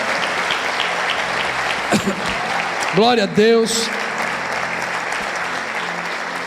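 A church congregation gives sustained applause for Jesus, steady and fairly close, while one person calls out briefly over it partway through.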